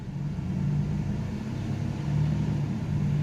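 A 1993 Chevy S10 pickup with the 4.3 engine, running on a replaced ECM, drives along with a steady, close, low engine rumble and a mild rise in revs partway through.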